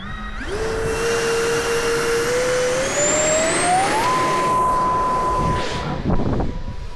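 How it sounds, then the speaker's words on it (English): A hand-launched, 3D-printed RC F117 stealth fighter flies with a loud, close electric whine that climbs steadily in pitch, levels off, then settles into a sustained high drone over windy background noise. "Hand launchable F117 stealth fighter."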